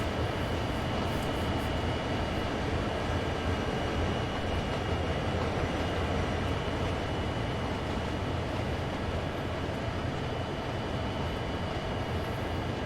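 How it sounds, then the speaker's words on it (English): Simulated freight train on the Cane Creek line in Train Sim World 2 running under dynamic braking, a steady loud roar and whine of locomotive blowers and rolling wagons, unbroken throughout. "With the help of dynamic braking, we're able to maintain the speed of 25. We don't need the train brake."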